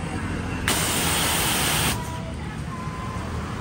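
A pressure washer with an OK 313 pump head, 20 mm ceramic plungers, 80–100 bar output, 20 L/min flow and a 3 hp motor sprays a loud, steady hiss for about a second over a constant background hum.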